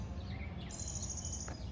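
Birds chirping outdoors on a nature walk, a few faint high tweets and a thin sustained whistle over a quiet background hum, brief and distant.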